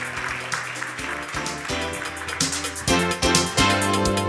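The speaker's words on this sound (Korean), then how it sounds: "여러분 큰 박수로 함께 맞이해 주시기 바랍니다" Audience applause welcomes a National Assembly member to the stage at an entrance ceremony for a security-leader training program, loud and steady over tonal music that swells toward the end.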